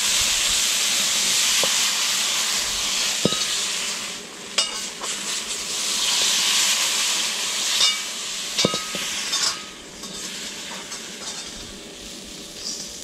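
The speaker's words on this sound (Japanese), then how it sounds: "ジュージュー醤油をね言わせることが醤油コーティング成功させる秘訣ね" Soy sauce sizzling in a hot fiber-line wok, a loud steady hiss that swells and fades in waves, punctuated by sharp clicks and scrapes of the pan being worked.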